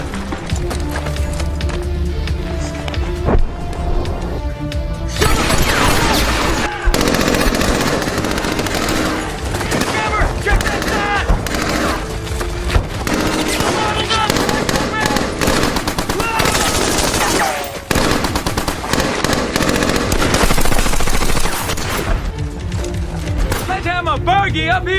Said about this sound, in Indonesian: Dan tanpa disadari, Sersan Burgin pun langsung memerintahkan pasukannya untuk memeriksa bunker tersebut, sehingga pertempuran jarak dekat terjadi.